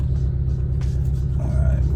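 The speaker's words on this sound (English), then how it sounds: "we're just pulling out right now" A 2019 Porsche Boxster GTS pulls away, its low engine rumble steady and close from inside the cabin while a person talks over it.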